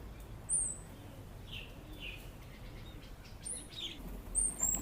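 Birds feeding on leftover breakfast scraps at a Vipassana meditation centre monastery, giving scattered high chirps and short tweets against a quiet outdoor hum, some calls nearer, others distant.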